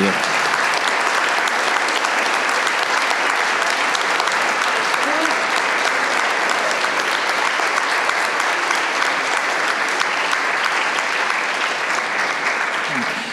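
An audience at a French literary prize event gives the laureate of the Prix Pandore 2024 loud, steady, sustained applause that runs unbroken for over thirteen seconds, dense and even, with no pauses or voices standing out.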